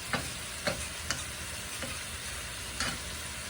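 Organic pork sizzles and fries steadily in a pan, a close continuous crackle broken by a few sharper pops and spatters, with no talking.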